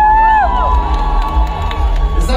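A concert crowd at a rainy VK Fest show in Saint Petersburg shouts and cheers loudly and continuously, with whoops rising over the roar.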